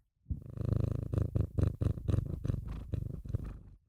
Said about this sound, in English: Do you want to hear her purr?